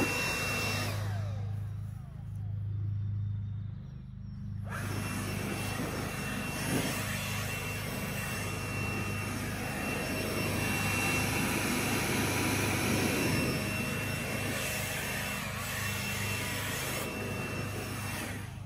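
Wild Badger Power Tools leaf blower clearing debris off a porch, a loud steady whooshing roar with a high engine whine that holds almost unchanged from start to finish.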